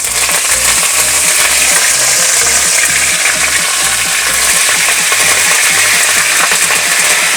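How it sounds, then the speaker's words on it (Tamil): Curry leaves dropped into hot oil that already holds browned fenugreek seeds, giving a loud, steady sizzle and crackle that carries on throughout with no voices. "இப்போது கருவேப்பிலை போட்டுப்போம்."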